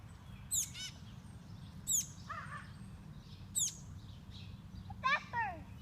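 A baby bird gives four short, high chirps spaced about a second or more apart, fairly faint over a low steady background rumble.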